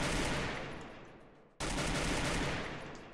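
Loud, dense gunfire from the battle royale game Free Fire, two sustained bursts of rapid shots separated by a brief cut near the middle, with no talk.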